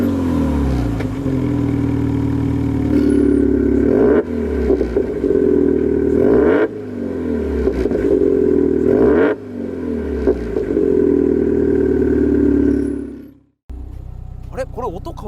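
Subaru WRX with a Chargespeed original muffler exhaust, engine idling with a deep steady rumble and several sharp revs rising and falling, loud and close, cutting off briefly near the end before the idle returns.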